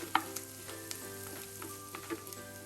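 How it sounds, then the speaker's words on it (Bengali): Onion and shrimp frying together in a pan over lowered heat, a quiet continuous sizzle with a few soft stirring clinks and scrapes, no voices. "এক মিনিটের মতো চিংড়ি মাছের সাথে পেঁয়াজটাকে একটু ভেজে নিব"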